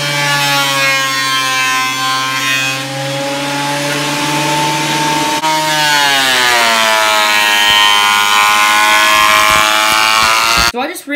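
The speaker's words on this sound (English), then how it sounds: "ran that thing through my planer" Steady, loud machine drone of a wood planer flattening an epoxy-coated coat rack board, running continuously with shifting harmonic whine as the board feeds through, cut off abruptly at the end.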